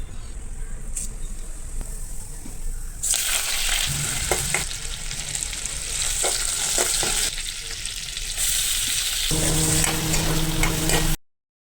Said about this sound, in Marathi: थोडे पाणी टाकून मस्त ढवळून घ्यावे